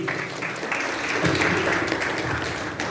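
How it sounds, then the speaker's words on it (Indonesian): An audience at a school career expo claps, a steady wash of applause from a crowd that holds at an even level throughout with no talk over it. "Tepuk tangan buat adik-adik sekalian hari ini."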